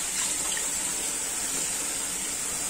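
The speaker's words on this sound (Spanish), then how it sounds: "Le vamos poniendo más agua" Water pours steadily from a tap into a bowl to rinse snails, giving an even, continuous hiss and trickle at moderate volume with no voices.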